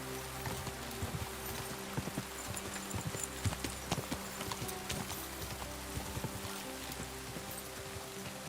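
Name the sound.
horse cantering hooves in video game Kingdom Come: Deliverance II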